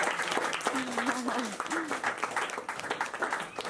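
A room of people claps steadily while a voice talks over the applause.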